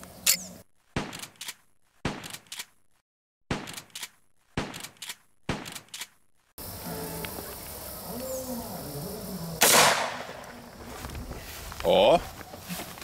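A roughly 100-year-old Winchester lever-action rifle from the First World War era, firing subsonic rounds outdoors: about six sharp, loud reports spaced roughly a second apart, then open-air ambience with rustling and movement.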